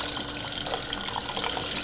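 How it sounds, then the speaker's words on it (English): Vegetable broth pours into a soup pot, a brief steady splashing stream of liquid, close and moderately quiet, with no voices. "I'm gonna add 2 cups of veggie broth."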